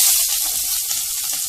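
Mustard seeds and sliced onion frying in hot oil for Kerala-style cabbage thoran, giving a steady, close, bright sizzle that holds evenly for the whole moment with no talking.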